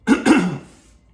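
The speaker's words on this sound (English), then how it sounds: "I'm sorry with the coughing, guys." Two quick coughs blended with throat clearing, loud and close, from a man breathless after a hard gym workout, fading out within a second with no talk.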